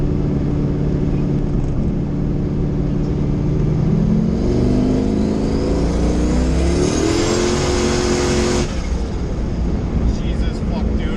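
A tuned car on slicks accelerates hard from a roll in third gear, its engine roaring loud and close with a rising whine and a sharp cut near the end, under brief talk.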